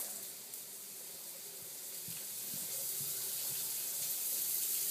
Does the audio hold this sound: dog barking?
no